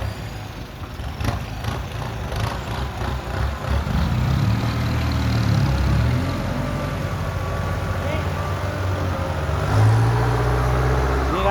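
A farm tractor engine rumbles closer, a low mid-pitched chugging that grows slightly louder, with voices talking over it.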